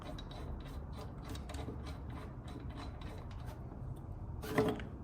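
Oil catch can fittings being hand-tightened on a GMC truck, giving a run of small close ratcheting and threaded clicks with a brief louder knock near the end.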